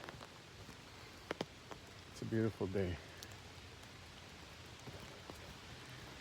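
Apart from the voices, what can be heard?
rain falling while walking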